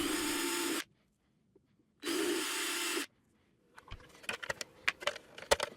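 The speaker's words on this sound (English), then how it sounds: "I then drilled holes for the fan intake and the mounting bolts using a hole" Two bursts of high-pitched drilling with a step drill, each about a second long, are followed by a flurry of sharp clicks and taps.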